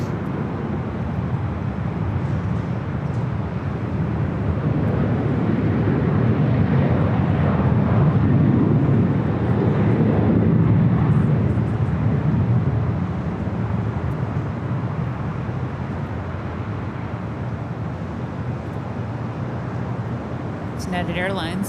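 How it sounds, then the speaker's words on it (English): A United Airlines Boeing 737-900ER takes off at LAX, a broad sustained jet roar swelling to a peak mid-way and then easing off, with people talking over it. "We have another takeoff here."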